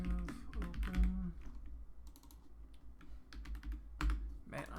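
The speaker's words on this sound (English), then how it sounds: "Man, I'm so bad at typing." Fast, uneven computer keyboard typing during a livestreamed coding session, with bursts of clattering keystrokes that stop and start across the clip, close to the microphone.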